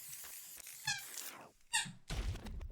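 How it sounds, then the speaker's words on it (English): Several distinct squeaks sound from a dog in the background, high and wavering with short gaps, followed by a dull thunk, fairly faint in an otherwise quiet room. "the dog starts squeaking in the background"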